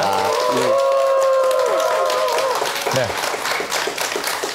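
An audience claps warmly to welcome a lecture, steady applause filling the room while background music with sustained tones plays under it.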